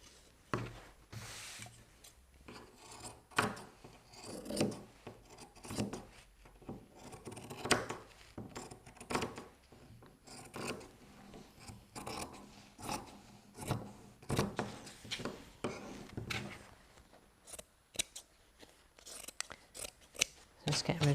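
Scissors trim excess quilt batting on a sewing project in a long run of close, repeated crunching snips and rubbing sounds, with faint talk in places.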